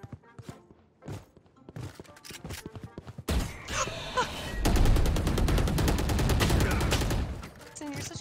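Automatic Phantom rifle fire in Valorant, first scattered single shots, then dense rapid bursts that swell into sustained loud volleys, with a voice briefly in the mix.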